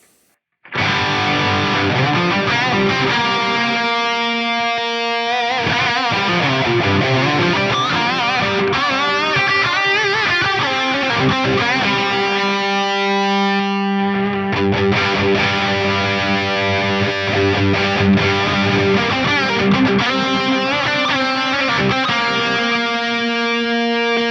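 Distorted electric guitar played through a Fractal amp block with its fat switch engaged, heard as sustained chords and riffs that run loud and continuous with no talking, after a brief silence at the start.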